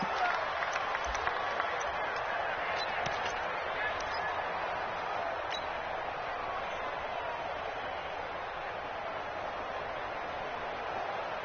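A stadium crowd roars continuously in an American football video game ahead of a big third down, a broad, steady wash of cheering with scattered claps.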